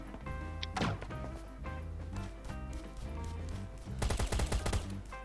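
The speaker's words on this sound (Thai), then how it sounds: "มาเล่นปืนหนักเลยวะ" Heavy gunfire in the Last Island of Survival video game, scattered shots over looping background music, then a loud rapid burst of automatic fire near the end.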